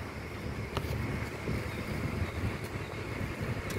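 Wind buffets a microphone outdoors, making a steady, rough broadband rumble with gusty swells and no voices throughout.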